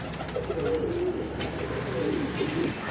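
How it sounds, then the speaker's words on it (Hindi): A pigeon coos softly nearby, two low burbling calls over a quiet background hiss. "दोस्तों को एक कबूतर दिखा दें"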